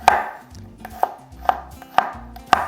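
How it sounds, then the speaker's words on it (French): A knife comes down on garlic cloves on a board, giving five sharp, evenly spaced crushing knocks, close and clear with nothing else heard. "pour l'ail, comme d'habitude, nous écrasons d'abord en petits morceaux avec le couteau"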